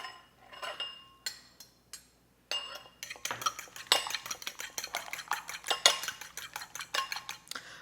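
Egg being whisked in a bowl with a utensil for turtle cheesecake, a close series of quick clinking and scraping strokes against the bowl, sparse at first and then fast and steady, with no talking.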